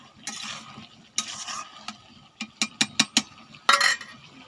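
Malabar spinach raita being mixed in a pan, a few soft swishing strokes followed by a quick run of sharp metallic scrapes and taps, close up with no talking.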